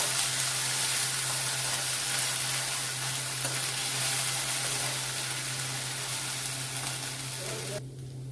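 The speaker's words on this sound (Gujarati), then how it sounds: "થોડી વાર સાંતળી દઈશું।" Ginger, chili and garlic sauté in oil in a kadai with a dense, continuous sizzle and crackle close by, holding steady for several seconds before easing slightly at the very end.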